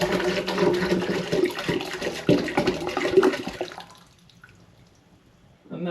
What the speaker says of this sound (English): So next I'll add what's in the demijohn into the big pan.